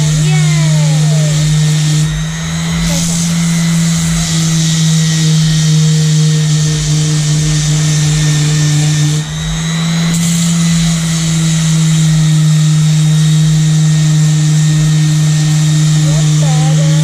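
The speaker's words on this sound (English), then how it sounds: "Doing sanding again." A power sander runs continuously on a boat with a loud, steady, close whine and hum, dipping briefly twice, with no talking over it.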